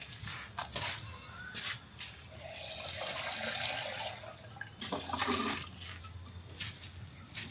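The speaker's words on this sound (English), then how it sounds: "This is water." Water is poured into a pot while coconut candy is being made, a splashing, trickling pour that runs for several seconds with a few louder gushes, fairly quiet and with no talking over it.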